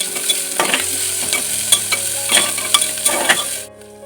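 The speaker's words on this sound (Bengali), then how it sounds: "কুচিয়ে রাখা পেঁয়াজ দিয়ে দিলাম। এটা খানিকক্ষণ ভেজে নেব, আমি কিন্তু লো স্টিমে ভাজবো।" Chopped onion, crushed garlic and ginger, and green chilli fry over low heat in a pan for egg curry. A close, steady sizzle runs under repeated stirring scrapes and clinks, then stops abruptly near the end. No one speaks.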